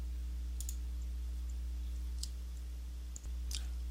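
Quiet mouse clicks on a software button in email marketing software, with a few sharp, isolated clicks spaced apart over a low steady hum.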